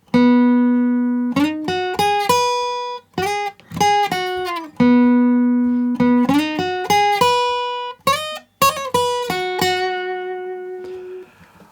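Guitar picking the lead intro line of Post Malone's "Pour Me A Drink" alone: clear, bright single notes and short runs with small pauses between phrases, close and moderately loud.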